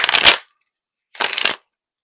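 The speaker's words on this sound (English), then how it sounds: "Let's shuffle this up." A deck of cards is shuffled in two quick riffling bursts, crisp and close, separated by a short silent pause.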